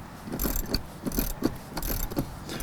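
Ratcheting clicks from a wrench snugging bolts on running board brackets, several short bursts of mechanical ratchet and metal clatter at close range, with no talk.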